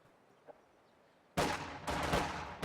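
Gunfire from a real-time strategy video game set in wartime bursts in abruptly after a quiet stretch, with loud overlapping shots and blasts continuing in clustered volleys.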